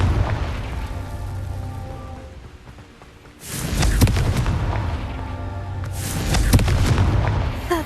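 Confringo blasting spells go off in Hogwarts Legacy. A sustained rumble dips, then two powerful, loud explosive bursts erupt a few seconds apart, each trailing into heavy booming debris noise.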